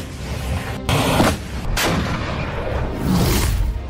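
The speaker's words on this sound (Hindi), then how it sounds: "एक टैंक, एक फायर," A tank cannon fires in the Russia–Ukraine war. Several loud, booming blasts with broad rumbling roars follow one another across a few seconds, with no voices.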